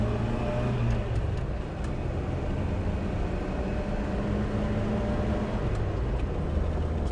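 An unrestored 1970 Hillman Hunter, used daily for five decades, revs hard as it accelerates, giving a steady, sustained engine drone and road roar with no talking.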